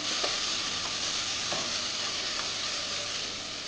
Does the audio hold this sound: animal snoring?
no